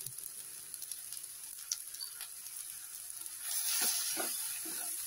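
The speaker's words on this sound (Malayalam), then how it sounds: "ഇത് നന്നായിട്ടങ്ങ് വഴലണം." Asafoetida, coriander powder, salt and turmeric sautéing in hot oil for a Kannada lunch dish, a faint steady sizzle that swells into louder crackling partway through, with no voices.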